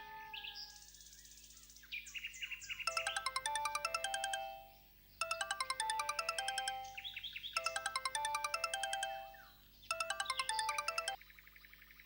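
A mobile phone ringtone plays as a repeating electronic melody in three loud bursts separated by short pauses, with warbling birdlike tones between them and no voices.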